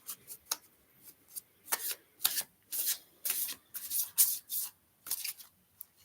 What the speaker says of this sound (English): Shuffling these cards.